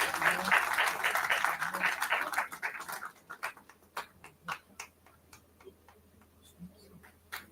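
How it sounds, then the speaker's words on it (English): An audience at a university event on India's National Education Policy 2020 claps, with dense applause that thins after a few seconds into scattered individual claps. "Everyone, please give a huge round of applause."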